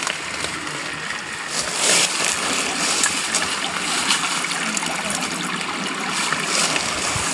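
A freshwater stream rushes and splashes over rocks in the wild, a loud, continuous broadband wash close by with no one speaking.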